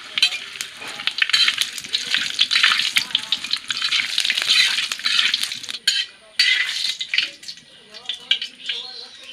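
Whole spices (mace, nutmeg, cloves and cardamom) fry in hot ghee in a wok with a bright crackling sizzle and repeated metallic stirring clinks, loud and close.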